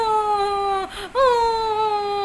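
A voice imitates loud, drawn-out wailing like a frightened child crying, a sustained tonal howl that breaks off briefly midway and then resumes just as loudly.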